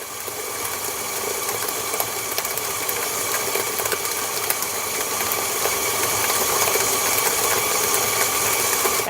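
An electric mixer creams cream cheese while fine sugar is slowly added for cheesecake batter, giving a steady, close whirring motor drone that runs unbroken throughout with no talking.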